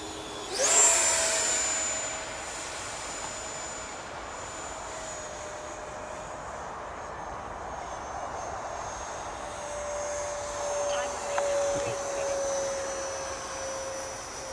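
An Arrows Hobby BAE Hawk model jet on its maiden flight gives a steady ducted-fan whine that rises sharply as it passes close early on, then holds as a continuous, moderately loud drone with a slight swell near the end.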